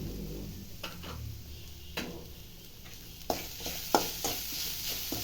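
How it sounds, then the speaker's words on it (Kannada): Masala paste with turmeric and salt for chickpea sundal sizzles softly in a pan, and a spoon scrapes and knocks against the pan in irregular close stirring strokes. "ಚೆನ್ನಾಗಿ ಒಂದು ಫ್ರೈ ಮಾಡ್ತಾ ಇದ್ದೀನಿ"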